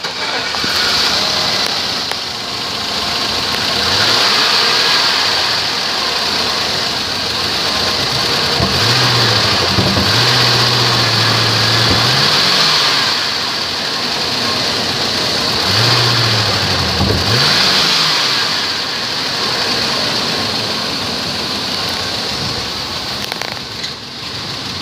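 A 2001 Chevrolet Suburban with about 244,000 miles runs steadily, its engine idling close by and climbing twice into brief revs before settling back, over a constant hiss.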